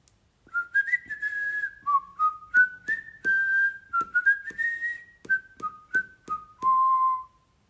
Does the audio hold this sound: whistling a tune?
yes